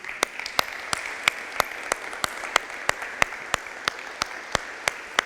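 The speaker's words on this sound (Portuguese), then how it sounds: "Salva de palmas para Jesus, querido." Congregation applauding during a Thursday church service, sharp regular claps ringing out at a steady beat over a soft background wash, moderately distant and fairly quiet.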